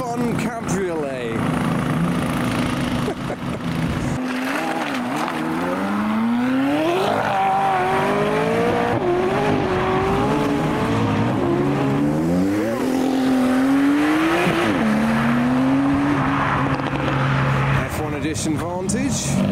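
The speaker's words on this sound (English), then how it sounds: "As demonstrated by the Cayman GT4." A Porsche Cayman GT4 and other modified cars and supercars accelerate hard along a road in frosty weather. Engine notes climb and fall through the gears as cars pass by loudly, with a voice talking over them.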